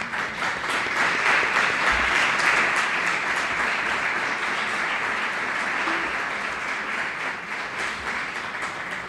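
Sustained audience applause after a panel discussion on youth and inequality, a dense wash of many hands clapping that holds steady and slowly tapers, with no talk over it.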